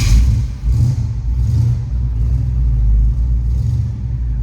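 A 1966 Chevrolet Bel Air four-door wagon with a 283 V8 idles steadily, a deep, loud, continuous low rumble with slight swells in engine revs and no talking.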